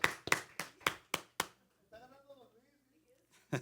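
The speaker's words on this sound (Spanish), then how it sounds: "Un aplauso." A congregation at a church service claps in a quick burst of about six sharp claps, then fades into a few soft, scattered sounds and near quiet, with one last clap at the close.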